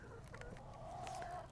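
Homestead chickens, including young blue laced Wyandottes, cluck softly nearby with a drawn-out, murmuring call, faint and continuous over a low background hum.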